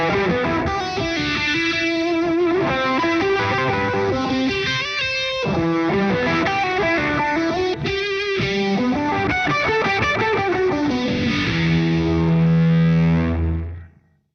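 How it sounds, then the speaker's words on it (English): Sustained lead electric guitar line run through a compressor, overdrive and phaser, loud, distorted and swirling, playing continuous melodic phrases for about fourteen seconds before a held final chord fades out. "this is the one with the compressor, the drive, the phaser. This is going to be the lead guitar sound."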